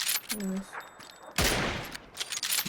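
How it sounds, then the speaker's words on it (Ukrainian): Gunfire in PUBG on a snowy Erangel map, with sharp distant shots scattered through the clip and a louder burst at the midpoint, under brief game sounds and no speech. "вони по ньому тепер стріляють"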